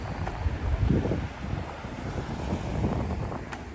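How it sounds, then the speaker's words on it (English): Gusty wind buffets and rumbles steadily across the microphone on a downtown Lexington, Kentucky street during summer rain, rising and falling in strength for a few seconds with no voices. "But that's the breeze blowing this rain towards us."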